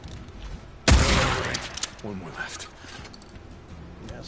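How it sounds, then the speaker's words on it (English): Enemy gunfire in the video game Days Gone: a sudden loud burst of shots opens the moment and fades into a rumbling tail, followed by scattered clanks and quieter game noise. "He's firing at me."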